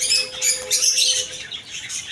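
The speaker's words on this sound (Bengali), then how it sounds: "এই হচ্ছে ককাতুল পাখি অ্যালবিনো ককাতুল" Albino cockatiels chirp in quick, overlapping high tweets, close and fairly loud, with a busy bird-shop chatter behind them.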